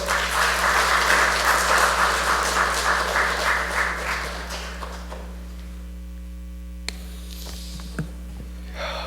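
Congregation applause at a church retirement and installation service, a dense broadband burst of clapping for about four seconds that fades into a quiet room with steady electrical hum and a few faint taps.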